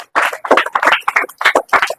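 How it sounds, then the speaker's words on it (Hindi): Schoolchildren in a classroom clap for a girl, a quick ragged burst of close, bright handclaps lasting a couple of seconds with no talking. "चलो बच्ची के लिए तालियां बजाओ"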